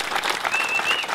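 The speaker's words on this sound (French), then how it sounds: "Je pense qu'on peut l'applaudir." A short burst of audience clapping greets an award winner, brisk and moderately loud applause with no voices over it.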